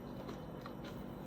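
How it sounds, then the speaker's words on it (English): Close, crisp crunching of a bite into a crunchy homemade granola bar, a short run of brittle crackles and crumbling heard alone and near. "here's the crunch ASMR"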